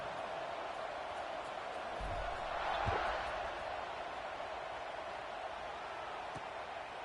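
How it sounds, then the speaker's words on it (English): Stadium crowd at a football game after a score, a continuous distant buzzing murmur that swells briefly in the middle, with a few faint thuds and a commentator's voice over it. "This crowd is buzzing after that last score."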